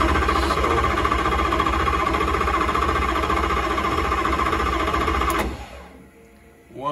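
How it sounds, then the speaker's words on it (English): A Crawford DP race car engine cranks without firing while its coils are disconnected, a steady loud mechanical churning that runs for about five seconds before abruptly dropping away. "We energize the car and crank the engine, though it's not going to fire"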